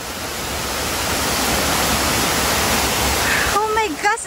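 Steady, full roar of the first waterfall at Ng Tung Chai on Tai Mo Shan, Hong Kong, a dense continuous rush of falling water close by, with a voice joining briefly near the end.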